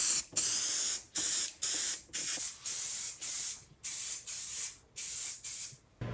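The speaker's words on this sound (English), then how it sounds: "Everything is getting a coat of primer and a coat of paint." A spray can or spray gun lays down primer and paint coats on outdoor handrail lighting parts in about eleven short bursts of hissing spray, evenly spaced with brief silent gaps, close and clear.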